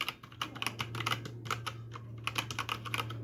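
Fast, steady typing on a Zifriend KA646 mechanical keyboard with red linear switches and hot-swappable keys, close and crisp, the keystrokes clattering in quick bursts over a low hum.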